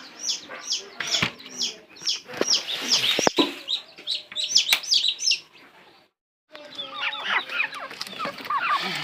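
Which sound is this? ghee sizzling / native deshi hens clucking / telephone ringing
native deshi hens clucking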